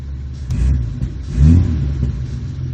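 A vehicle engine starts at the turn of a key and flip of a switch, then settles into a steady low running rumble with a brief rev swell near the middle.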